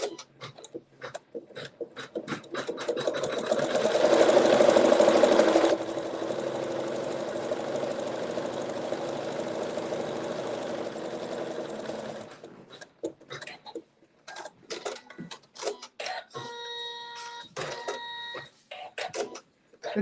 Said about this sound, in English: this step is just going to sew some detail stitching